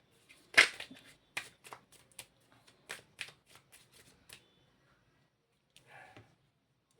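Tarot cards shuffled close by in a quiet room, with a burst of crisp riffling snaps followed by a few softer card slides and taps, then near silence.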